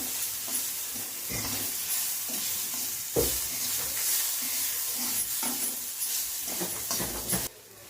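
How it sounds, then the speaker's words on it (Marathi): Green chili thecha fries and is stirred in a pan over low gas, with a constant sizzle broken by repeated scraping strokes of the spoon, close and steady. "हा ठेचा चांगला परतून देऊ."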